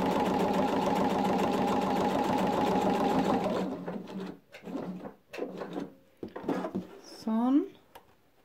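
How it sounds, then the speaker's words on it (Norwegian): Sewing machine stitching straight through all layers of a quilted patchwork e-reader case, a loud steady whirr for about three and a half seconds, then stopping as a voice talks briefly. "Så syr jeg rett og slett gjennom alle lager."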